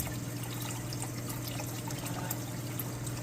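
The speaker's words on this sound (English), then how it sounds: "the water looks clear coming out" Steady water trickling and splashing out of a DIY emergency turtle filter into a tank, a faint continuous wash of liquid with no voices.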